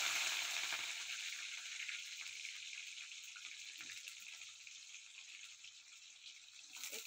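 Chopped onion and jackfruit drop into hot oil in a home kitchen pan, a bright hissing sizzle that starts loud and slowly settles into a steady crackle.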